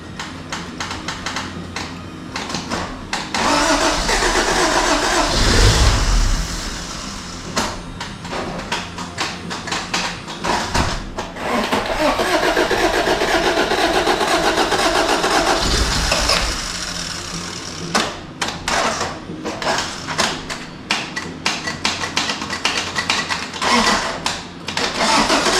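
A 1983 Honda Civic 1.5L EM1 engine cranks with the ignition bypassed, repeated close rattling and ticking bursts with rough churning surges between quieter gaps, no talk.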